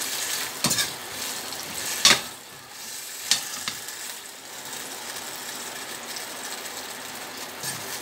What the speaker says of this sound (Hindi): चिकन फ्राई किया था जो इस शेप में आ गया था, इसको हम मिक्स कर देंगे।